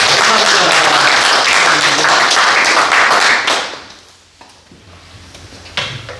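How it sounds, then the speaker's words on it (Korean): A church worship congregation claps in sustained, dense applause that fills the first few seconds, then fades into quieter room sounds with a few scattered claps near the end. "우리 하나님께 영광의 박수 올리겠습니다."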